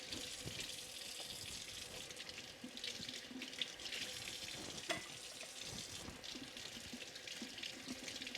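Tap water runs steadily into a sink while produce is washed by hand, a continuous splashing hiss with a few brief clatters and no talking.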